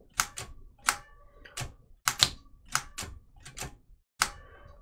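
Antique Remington Remette typewriter being typed, with sharp close key strikes landing singly and in quick pairs at an uneven pace, each with a metallic clack, no talking.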